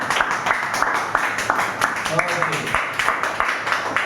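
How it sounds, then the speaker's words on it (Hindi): A class of students clapping together in rhythmic bursts, roughly two claps a second, steady and close, with a voice speaking briefly over the middle. "क्या बात है, तालियां बजा दो।"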